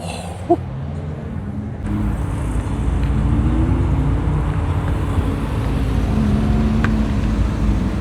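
A Lamborghini Temerario hypercar drives past at a cars and coffee meet, its engine note swelling into a loud, sustained roar after a brief quieter start, with a rising tonal drone carrying through to the end.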